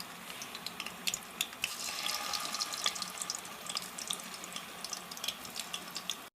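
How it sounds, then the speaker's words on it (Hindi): Chicken moti frying in hot oil in a kadai, a quiet steady crackle with many small sharp pops and spits scattered across the whole stretch. "ये देखें ऑयल गर्म हो गया है और अब मैं ये चिकन मोती फ्राई करूँगा"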